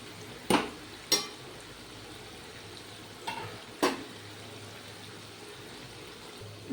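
Cabbage pakoras fry in hot oil with a steady, soft sizzle throughout. A few sharp spatters or utensil clicks break in at irregular intervals, and no one speaks.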